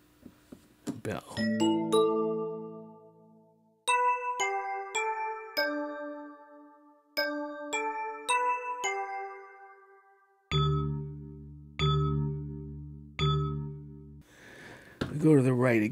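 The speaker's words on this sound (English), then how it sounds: "Bell." Bell patch on a Roland FP-E50 digital piano: a series of bright, chiming struck notes and chords with long ringing decays, played alone with clear gaps between phrases, ending in a few low, heavier bell chords.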